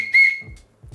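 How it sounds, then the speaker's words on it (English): A 3D-printed plastic whistle gives one short, loud, clear blast, a steady high tone lasting about a fifth of a second, followed by low rustling handling noise. "The first thing I printed was this whistle."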